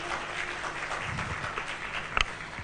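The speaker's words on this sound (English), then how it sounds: "so let's give her a clap." An audience at the PMI Kenya Project Management Excellence Awards 2023 claps in a steady, even wash of applause, moderately loud from a room full of people.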